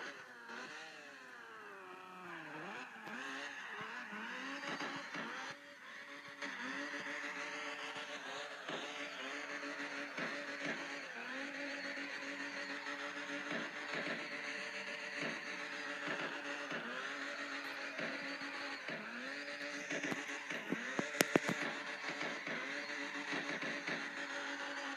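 A car engine revs continuously while the car spins donuts, its pitch swooping up and down in repeated surges, loud and steady with no talk.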